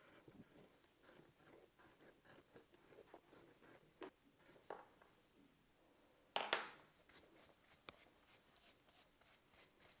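A blade scrapes and scratches grooves into a citrus press template in short rasping strokes, then one louder rough scrape and a run of quick faint scratches, close and quiet, with no voices.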